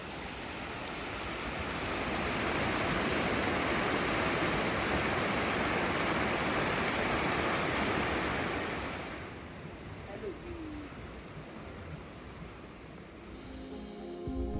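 A river rushes beside the Blue Sky Homestay in Jibhi, a loud, steady broadband roar that suddenly drops after about nine seconds to a softer, more distant wash of flowing water.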